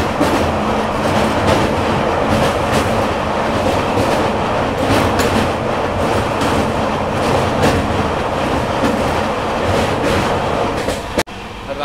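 Garib Rath Express train crossing the Beas river rail bridge at night, a loud steady rumble and rattle of wheels over the bridge filling the whole stretch, ending in a brief sharp drop.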